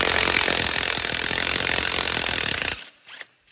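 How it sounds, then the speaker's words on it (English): An impact gun rattles loudly and continuously for almost three seconds, hammering off the rusted tie rod end nut on a 2007-2011 Honda CR-V, then stops abruptly, leaving a few faint clanks. "Hammer the socket on and just let it rip and take this nut off."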